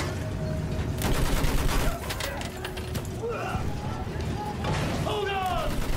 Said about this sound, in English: clear shot on that blasting field gun